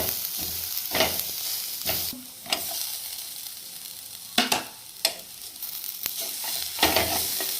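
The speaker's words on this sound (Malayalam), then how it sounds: "ചക്കക്കുരു ചേർത്ത് നന്നായിട്ട് ഇളക്കി കൊടുക്കാം." Mysore spinach with cooked jackfruit seeds is stirred in a hot pan, and the spatula scrapes and taps in irregular bursts over a soft continuous sizzle, close up and without speech.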